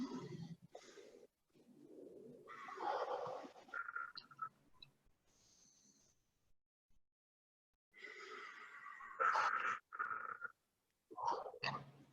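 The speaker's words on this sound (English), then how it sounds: "You're going to take a big deep breath in through your nose and then out through your mouth." A person breathes deeply in through the nose and out through the mouth during a guided fitness and strength workout, with several loud, breathy inhales and exhales separated by quiet pauses.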